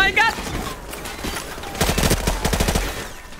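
Gunfire from Call of Duty Modern Warfare Remastered rattles in rapid automatic bursts, loud and close, with a quick rhythmic string of shots dominating the second half.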